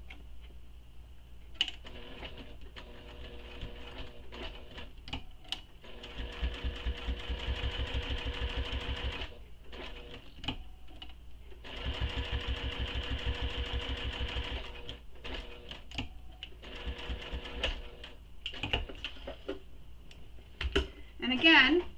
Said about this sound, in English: I'm going to top stitch that top edge